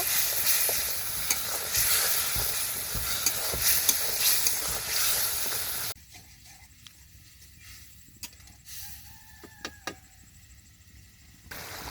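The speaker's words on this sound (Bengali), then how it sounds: "দেখুন আমি মশলাটা কত সুন্দর ভাবে কষে নিছি" Spice paste of chili, turmeric, coriander, cumin and salt stir-fried in a pan, a loud dense sizzle with scraping stirs for about six seconds, then a much quieter stretch of light frying and sharp utensil knocks, with no talking.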